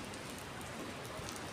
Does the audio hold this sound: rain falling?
yes